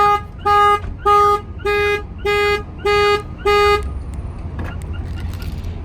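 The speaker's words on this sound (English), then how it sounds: "so when the alarm fires off, it's a very loud, high frequency sound inside the van" A Ram ProMaster van alarm blares in seven loud, evenly spaced pulsing honks, then cuts off, leaving a quieter background with a faint later sound.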